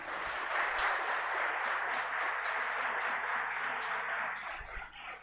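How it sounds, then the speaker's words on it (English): An audience at the close of a live expert talk on AI applications applauds steadily, a dense wash of clapping that holds evenly and then tapers slightly at the end. "Please give a big round of applause."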